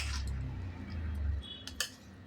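A spoon works through a chunky pickle of raw mango and chili in a bowl, giving soft squishy stirring followed by a few light clinks against the dish.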